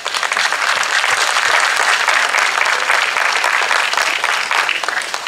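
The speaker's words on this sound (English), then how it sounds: "Let us give them a big applause." A festival crowd at the Pakistan Festival in Vancouver gives loud, dense, sustained applause that stays strong and even throughout, with no speech over it.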